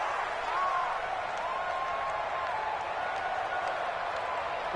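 Stadium crowd noise in a PS4 American football video game broadcast, a steady, dense roar throughout with a voice faintly threaded under it.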